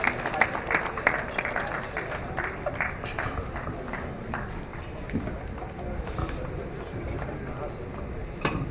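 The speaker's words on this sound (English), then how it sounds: "These are future surveyors, so let's clap for them very well." An audience at an annual memorial lecture claps for a young secondary-school prize winner, a busy patter of hands under ongoing room chatter and voices, moderately loud and steady for several seconds.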